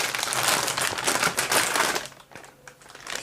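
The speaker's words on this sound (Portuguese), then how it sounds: "Você tira esse adesivo, essa fita e cola aqui." An adhesive anti-slip sticker's backing tape is peeled off for placement under a G80 3850 keyboard, giving a dense crackling, crinkling rip for about two seconds before it trails off into quieter ticks, close and fairly loud.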